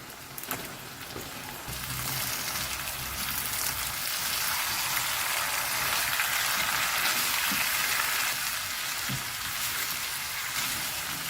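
Bitter gourd pieces coated in chilli powder, turmeric and salt fry in a pan with a steady, dense sizzle and crackle that holds throughout, with no talking.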